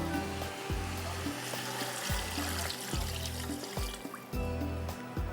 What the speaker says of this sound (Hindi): पानी जाएगा इसके अंदर और इसको हम चढ़ा देते हैं।